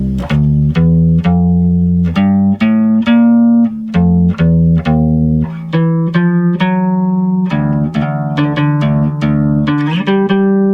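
Bridge of a funk tune played on electric bass guitar, a steady run of plucked notes with a punchy, sustained low tone. It plays alone and loud, with no talking.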